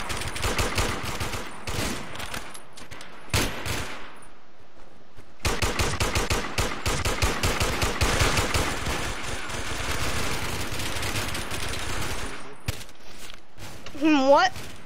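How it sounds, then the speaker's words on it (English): Shotgun fired in a warmode video game, loud blasts in irregular bursts and rapid clusters, interspersed with other gunfire and brief quiet gaps, with a voice talking at times. "I'm just testing this shotgun out, seeing how good it is."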